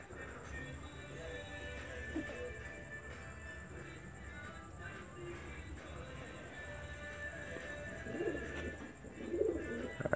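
Pigeon in Jamaica cooing amid a busy outdoor background, with soft low calls faintly audible over steady ambient noise and louder bursts near the end; someone talks nearby.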